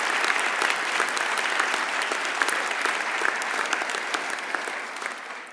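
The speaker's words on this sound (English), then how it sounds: "And if we could give all of them a round of applause" Sustained audience applause at a faculty honors convocation, steady dense clapping from a large crowd throughout, fairly even in level and tapering slightly at the end.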